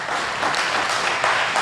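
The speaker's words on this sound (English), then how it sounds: "Clap for him." An audience at a philosophy day symposium at Tangaza University applauds a speaker, producing a steady wash of clapping that holds evenly through the short stretch.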